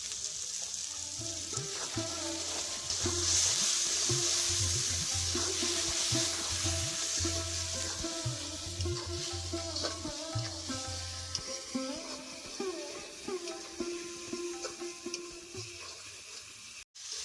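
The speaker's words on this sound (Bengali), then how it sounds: "আমার মশলাগুলো ভালো করে ভাজা হয়ে গেছে" Spices with salt and turmeric fry in a pan for a Bengali doi tilapia fish dish, producing a steady hissing sizzle over low, repeating tonal hums, with no talk, ending in a sudden brief cut.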